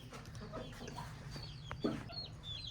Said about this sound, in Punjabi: ਅੱਛਾ ਇਹ ਹੋਰ ਜੋੜੀਆਂ ਬੈਂਟਮਾਂ ਦੀਆਂ